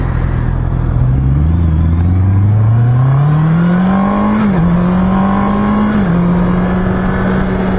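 A Honda CB650R motorcycle engine, caught in a false neutral, revs up steadily, its drone climbing in pitch over a few seconds, dipping briefly and holding high, loud and close without any speech.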